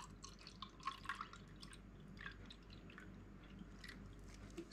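Soy sauce pouring quietly into water, heard as faint wet drips and small trickles over a soft, steady background hum.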